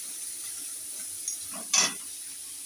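Onion paste frying in a pan, a soft steady sizzle broken by a couple of louder scraping stirs of a spatula, close and without talk.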